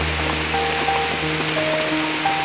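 A dense, steady roar of heavy rain drums close by, an even wash of falling water with no talking over it.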